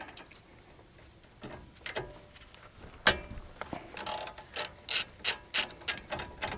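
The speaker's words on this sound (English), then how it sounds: "we're going to use our 1/2 inch socket on this bolt right here on the top" A ratchet with a 1/2 inch socket clicks on a brake caliper bolt of a 2011 Ford F-150, with scattered clanks first and then a run of sharp, evenly spaced ratcheting strokes close by.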